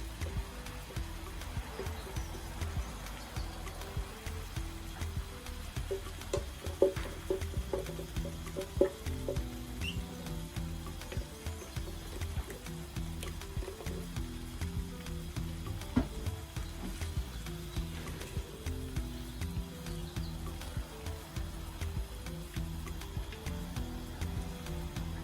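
Blended red pepper paste fries in a pan to dry it out, giving a steady, dense sizzle with soft crackles throughout and no voices.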